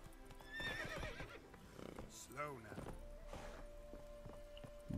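Horse neighing and whinnying with clip-clop of hooves from The Witcher 3: Wild Hunt, Hearts of Stone, a mid-loud whinny rising over steady hoof steps, with a voice speaking over parts of it.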